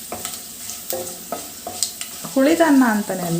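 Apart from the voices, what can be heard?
frying curry leaves in a pan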